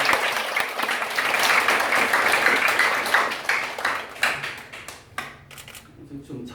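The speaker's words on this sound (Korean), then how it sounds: "힘찬 박수로 양성민 목사님" A church gathering at a discussion meeting greets a pastor with vigorous applause that is loud at first, then thins into scattered, separate claps toward the end.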